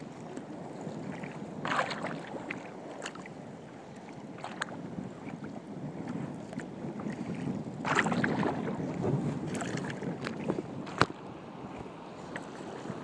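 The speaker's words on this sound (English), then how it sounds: "This wind is blowing us around, isn't it?" Steady wind blows across the water around a small boat at Stillwater, a continuous rushing hiss with gusts buffeting the microphone, with no talk.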